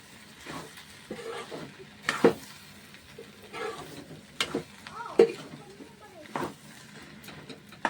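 Chickpeas and potatoes frying in a pan, with faint steady sizzling and several sharp scrapes and clinks of a spoon stirring at intervals, close by and fairly quiet.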